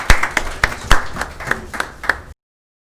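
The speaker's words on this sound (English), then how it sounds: "a big round of applause" A few sharp, distinct hand claps ring out at an awards ceremony for doctors in Hyderabad, spaced fairly evenly and sounding like a small group rather than full applause, ending abruptly.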